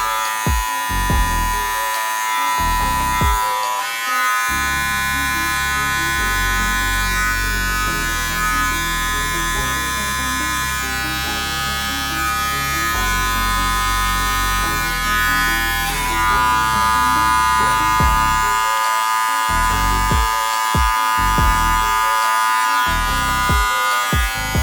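A cordless hair trimmer buzzes steadily through nearly the whole stretch while detailing a freestyle haircut design, a close, continuous electric hum with a few brief pauses and restarts and no talking.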